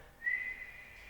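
A soft, steady whistle of breath blown out through pursed lips as through a straw in a yoga breathing exercise, thin and airy, sustained for about a second at low volume.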